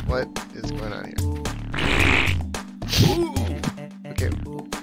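Cartoonish fart effect triggered by holding the B button on an Xbox controller in a party video game, a few loud blurts amid lively talk and game noise.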